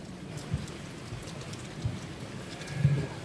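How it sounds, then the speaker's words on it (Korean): Autumn rain falls steadily outdoors at a memorial ceremony, a soft constant patter with a few heavier drops or thuds, faint and close, with no voices. "가을비가 추적추적 내리고"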